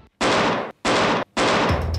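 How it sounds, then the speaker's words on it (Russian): A Tanfoglio sport pistol fires three sharp, loud shots at a steady rhythm, each with a short ringing tail, heard close with no talking. "«Танфолио» – пистолет для спортивной и практической стрельбы."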